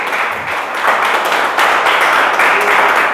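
A church congregation claps continuously, dense and steady applause filling the space without pause.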